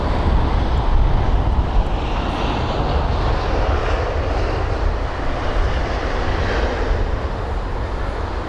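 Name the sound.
Air India 787 Dreamliner aircraft after pushback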